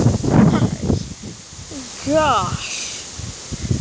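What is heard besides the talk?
hurricane wind rustling tree leaves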